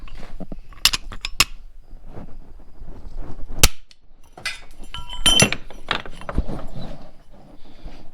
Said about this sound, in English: Just smacks that hammer down and it breaks off